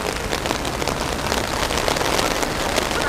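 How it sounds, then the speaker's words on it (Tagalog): Heavy rain pouring down during a sudden downpour outside a Daiso store, a dense, steady hiss of drops drumming on surfaces, close and loud throughout with no voices. "Biglang lumakas ang ulan."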